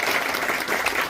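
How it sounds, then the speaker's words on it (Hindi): Crowd applause welcoming Jagadguru Shankaracharya Avimukteshwaranand Saraswati at a devotional gathering, a brief dense burst of clapping from many people, loud and close. "आप 2000 तालियों से महाराज जी का स्वागत करेंगे।"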